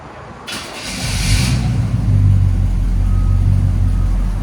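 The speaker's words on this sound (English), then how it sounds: "Chevy C10 with a 350 Borla ProXS True Duals." A 1980 Chevy C10 with a 350 V8, headers and Borla ProXS true dual exhaust cranks briefly and fires, then settles into a loud, close, deep rumbling idle with steady low pulses.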